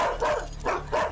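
Dogs bark in three loud, close bursts, evenly spaced with short gaps, no talking over them, in a Hindi family film scene.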